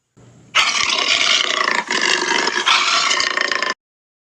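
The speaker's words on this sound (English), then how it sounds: "Let's listen to the sound of a jaguar." A deep, harsh jaguar roar that rasps on for about three seconds, loud and close, with a brief dip partway through before it surges again.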